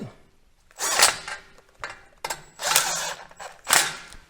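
A bolt on an exhaust hanger clamp is lightly snugged during a Chevy/GMC 6.0L exhaust installation. Three short bursts of close metallic ratcheting and scraping are separated by brief pauses.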